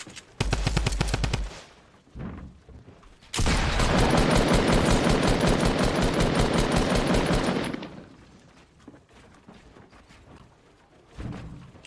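Rapid automatic gunfire from the video game Fortnite, with a short loud burst near the start and then a long sustained stream of shots for about four seconds before it cuts off, followed by quieter game noise.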